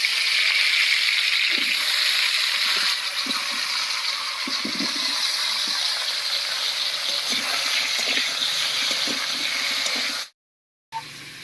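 Potol and potato fry in mustard oil in a kadai, giving a loud, dense, steady sizzle with faint stirring taps beneath, close up, before cutting off briefly near the end.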